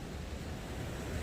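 Big sea waves surging continuously at Tai Long Wan beach on Lantau, Hong Kong, a loud steady broadband roar of surf with wind buffeting the microphone throughout.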